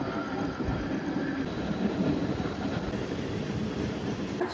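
A fast Central Railway local train from Dadar arriving at Kalyan station, giving a loud, steady rumble of wheels and carriages that runs through the whole stretch without pause.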